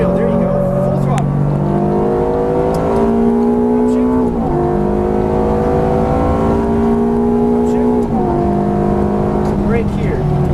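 Ferrari F430 F1 at full throttle on a racetrack, a loud close engine climbing in pitch in long rising sweeps broken by two quick gearshifts, with an instructor's voice speaking over it.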